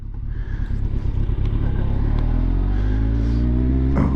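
A Kawasaki ZX14 motorcycle rides along with a steady engine drone and rising revs. Wind rush and clattering from the rider's gear sit close to the microphone, and there is no talk.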